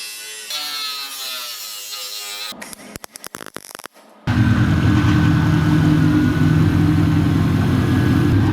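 Bodywork on a Porsche Panamera's fenders and quarter panels is cut, a loud sustained grinding and rasping close by after some earlier sharp, choppy tool noise.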